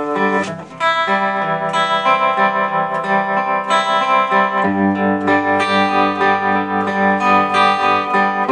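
Electric guitar through a 30W Vox AC30CC2X combo amp, its tremolo at top speed and half depth: sustained chords and notes pulse rapidly and evenly, loud and up front, with slight grit and no talking.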